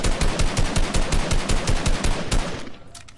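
Rapid automatic gunfire aimed at a van in a video game, a steady loud string of close shots lasting about two and a half seconds before cutting off, with no talk.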